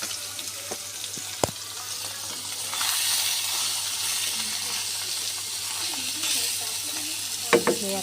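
Fish going into hot oil in a wok, a steady hiss of sizzling that swells partway through, with a few sharp clatters of utensils nearby.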